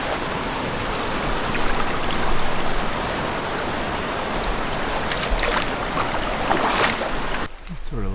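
Rushing water of the Carrabassett River at a night crossing, a loud, steady broadband roar close by, with a few faint clicks near the end.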